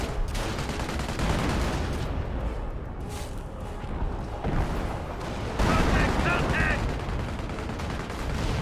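Dense battlefield gunfire and explosions from a Company of Heroes World War II game, with a Panzerschreck firing on a mortar emplacement amid steady crackling fire, heavier bursts and a commentator talking throughout.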